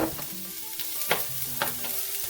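Chopped onion sizzles steadily in hot rosemary olive oil in a pan, a close, continuous frying crackle with a few brief clatters of stirring over a faint background hum.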